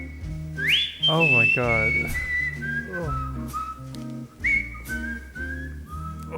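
Clear melodic whistling from a recording glides up and holds bright sustained notes over a bass-heavy musical backing, with a brief exclamation from a listener.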